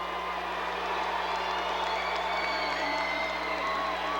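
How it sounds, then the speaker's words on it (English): A steady, loud roar from a crowd of basketball fans in a gym during a 1998 high school state tournament quarterfinal, ROCORI against Monticello, sustained without breaks under a faint low hum. "Everybody booing."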